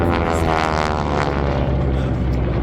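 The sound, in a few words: Kate torpedo bomber propeller aircraft flying in air show reenactment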